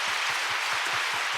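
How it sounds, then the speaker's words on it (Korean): Fans at a THE BOYZ K-pop concert applaud together in a dense, steady wash of clapping that holds at an even level throughout, with no talking over it. "맞다면 박수 한번 쳐주세요."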